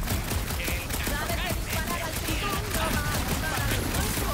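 Rapid gunfire bursts from a Guardians of the Galaxy video game, dense and continuous throughout, with a voice speaking over the shooting.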